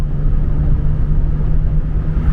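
Steady, loud exhaust drone from a 1986 Pontiac Fiero GT with a 2.8 V6, a deep continuous rumble holding an even tone throughout, close up with no voices.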